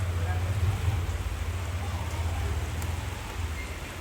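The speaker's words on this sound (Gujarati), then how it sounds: "વરસાદ ચાલુ થયો છે." Rain falls steadily outside a home as an even, broadband patter over a low background hum, continuous throughout.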